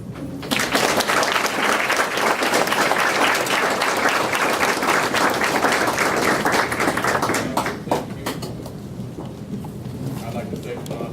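Loud, sustained audience applause after a spoken word performance, dense clapping that fills the room and then thins out near the end.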